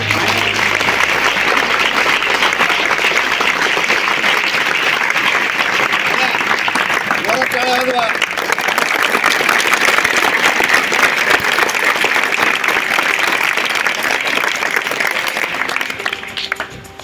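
Sustained, loud applause from an audience at a school function of Gautam Public School in Kopargaon, with dense clapping filling the whole stretch and easing slightly near the end.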